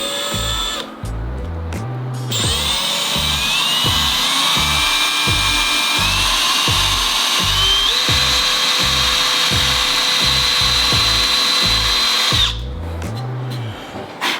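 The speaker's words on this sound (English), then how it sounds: "I'm gonna drill a pilot hole." A power drill with a 1/8-inch bit whirs steadily for several seconds drilling a pilot hole in aluminum, its motor pitch shifting slightly as the bit bites in, then winds down and stops.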